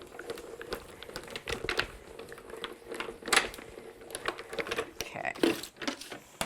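A die-cutting machine feeds a card through in a series of clicking, ratcheting and crinkling bursts that come close and irregularly, while someone talks quietly in between.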